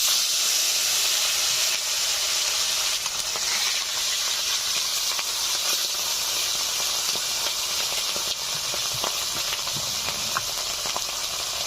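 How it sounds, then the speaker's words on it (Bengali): Dhela fish fry in hot mustard oil, a loud, dense, unbroken hiss and sizzle that stays steady throughout with faint crackles and pops scattered through it. "মাছগুলো ভেজে নিচ্ছি।"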